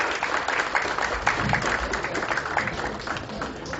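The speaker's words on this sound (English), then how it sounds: "give yourself a big round of applause" Audience applause at a healthcare industry annual event, a dense steady wash of clapping from a large crowd filling the room at moderate volume, with a few louder claps standing out and no voices above it.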